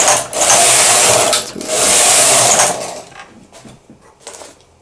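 An SK280 knitting machine carriage sweeps across the needle bed in two loud, broad rasping passes, then the sound drops to quieter clicks and handling noises.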